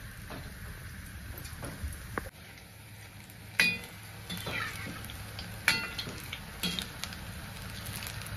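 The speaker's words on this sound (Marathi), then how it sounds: "आणि एक एक कांद्याची पात आपल्याला ह्यात बुडवून तेलामध्ये सोडायचे।" Batter-dipped spring onion fritters (bhaji) fry in hot oil with a steady close sizzle, broken by a few sharp crackles and pops as more pieces are dropped in, with light clinks of a utensil.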